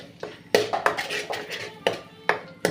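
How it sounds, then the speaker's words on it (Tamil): A spoon scrapes and clinks against a pan while stirring mutton kothu rice with gravy, giving close, repeated metallic taps and scrapes in an uneven rhythm. "இப்போ வந்து பார்த்திங்கன்னா நல்லா கிளறி விட்டுக்கலாம்."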